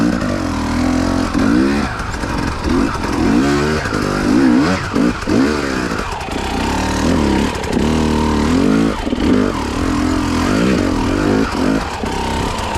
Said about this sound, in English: You can hear that bald tire spinning.